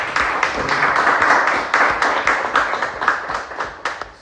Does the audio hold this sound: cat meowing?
no